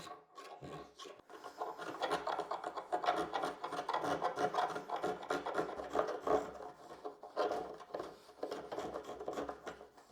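Sandpaper rubbing along a cut edge of wood, steady close rasping strokes in a continuous back-and-forth rhythm with brief pauses between passes.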